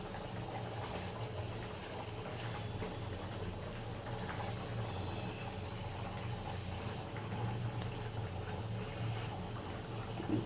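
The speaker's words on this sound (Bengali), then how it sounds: "এক এক করে এই মাছগুলো সব দিয়ে দেবো।" Fried pangas and tengra fish, heads included, go one by one into a pot of curry. A steady, moderately loud bubbling simmer runs throughout, with faint splashes and clatter on top and no talk.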